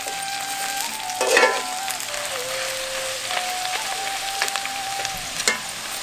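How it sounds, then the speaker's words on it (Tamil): Pirandai (adamant creeper) sautéing with tamarind, ginger-garlic, dried red chillies and curry leaves for a village-style pickle, a steady sizzle with a few louder stirring scrapes near the start and later on, no talk. "இதையும் பிரண்டையோட சேர்த்து நல்லா வதக்கி எடுத்துக்குவோம்"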